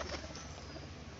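Domestic pigeons coo softly at their loft near a water spot, a faint low murmuring over a steady background hum with no talking.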